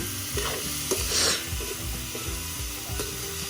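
Pork for Ilocano-style dinuguan frying in its own rendering oil, heard as a continuous sizzle with a steady rhythm of scraping stirs from a wooden spatula, close and without talk.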